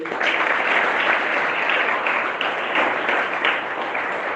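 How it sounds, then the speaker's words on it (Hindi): An audience at a spiritual talk claps for someone who gave a correct answer, a dense, even burst of applause lasting a few seconds. "ताली बजाओ इनके लिए"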